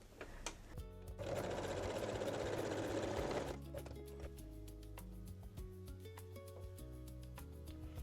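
A sewing machine runs a straight stitch along both sides of an elastic strap for a garter belt, a steady whirring burst of about two seconds near the start, with softer handling noises after.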